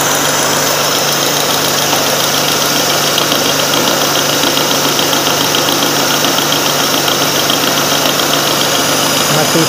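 A milling machine taking a cut with an AliExpress cutter while machining a top plate gives a loud, continuous, harsh grinding whine with a steady mechanical drone underneath, unbroken throughout.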